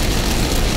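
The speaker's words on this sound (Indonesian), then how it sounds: "Hujannya cukup lumayan deras dan agak gelap juga jadinya." Heavy rain falls on a car during a homecoming drive on a new toll road, a steady, dense, loud wash of drumming with no voices.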